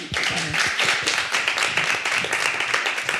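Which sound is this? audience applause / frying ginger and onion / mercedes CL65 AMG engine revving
audience applause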